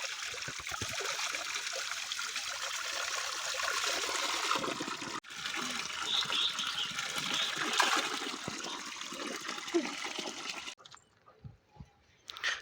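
Mountain spring water runs in a hillside village, a continuous close rushing and trickling flow that briefly breaks off and then thins to a faint dribble near the end, with no talking.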